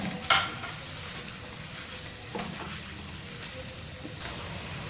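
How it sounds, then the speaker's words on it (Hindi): Two medium chopped onions fry in fish oil in a karahi, giving a continuous close sizzle with occasional stirring scrapes. "ये प्याज 2 दरमियानी जो चॉप की हुई थी वो मैंने शामिल कर दी है और इसको अब मैं कुक करूँगी"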